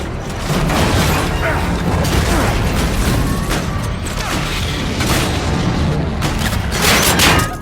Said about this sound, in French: Tire sur les civils!